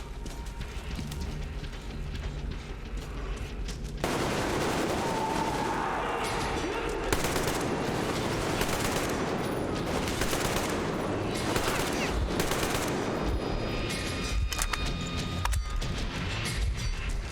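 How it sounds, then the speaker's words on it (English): Bursts of distant gunfire crackle over a steady roar of game noise and music in Metro Exodus, with rapid repeated shots. "I keep hearing gunshots, but I don't know who it's from."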